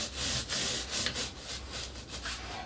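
A stiff clean brush scrubs the drive chain of a Suzuki GSX1400 motorcycle in quick back-and-forth strokes, a close, rhythmic rasping swish repeating about twice a second.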